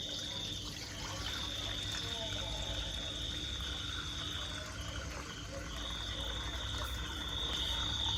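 Soaking water is poured off purple glutinous sticky rice as a steady, faint splashing stream, with a high insect-like chirping in the background.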